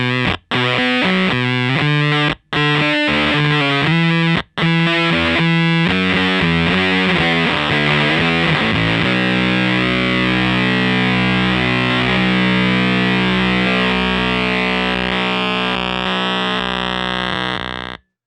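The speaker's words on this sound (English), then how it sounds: "with the gate turned up a little more, you start to lose some of the extraneous noise" A Musikding Die Factory DIY fuzz pedal, its noise gate turned up, drives a heavily distorted guitar. Loud, choppy chords are cut off abruptly by brief silences, then a long saturated note rings out and sustains to the end.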